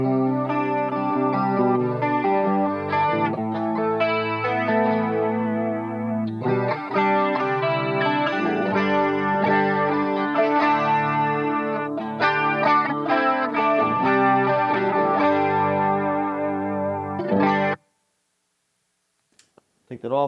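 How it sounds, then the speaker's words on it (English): An electric guitar played through a chorus pedal on a clean amp channel, with shimmering, chorused chords and notes ringing steadily for about seventeen seconds before cutting off into near silence. "I'm going to put it into clean on the amp, and I'm going to put it in the chorus pedal."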